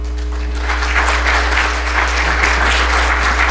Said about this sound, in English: First, let's have a big round of applause for him.